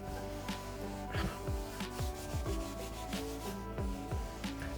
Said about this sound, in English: you're pretty much just wiping this down, getting the soap nice, getting it in there, rubbing it around